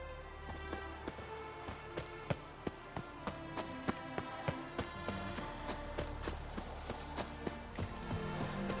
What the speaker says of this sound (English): A miracle on four hooves!